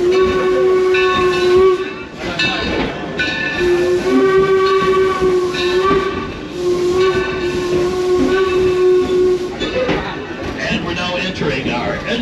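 Steam train ride at Greenfield Village, with a loud steam whistle sounding repeatedly over chuffing, hissing steam and rumbling rail noise heard up close from the carriage.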